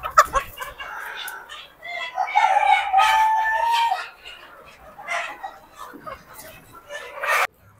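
Country chickens about 100 days old on a poultry farm, with clucking and drawn-out crowing calls close by, building to a sustained loud stretch before a final sharp cry and sudden quiet.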